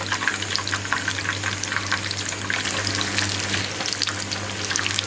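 Chicken and shrimp chops deep-frying in hot oil, a steady dense crackling sizzle with faint bubbling that holds at an even level throughout.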